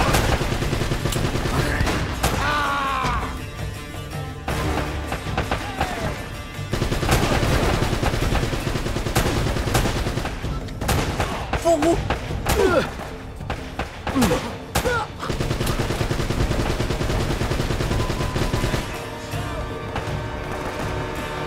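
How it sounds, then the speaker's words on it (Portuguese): Uncharted: Drake's Fortune gameplay with bursts of machine gun fire and scattered gunshots, loud and dense in several stretches with thuds between them, while a player talks over the action. "Tem uma metralhadora ali, gente."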